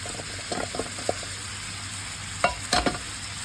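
Pork sausages and carrots fry in a pan on a home stove, a soft steady sizzle with a few louder stirring clatters near the end, no speech.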